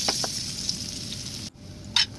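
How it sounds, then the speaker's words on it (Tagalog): Chicken and giblets sauté in a pan with a steady hissing sizzle, a few soft stirring scrapes and a brief clatter near the end, no voices. "Pagkatapos ay magigisa na tayo."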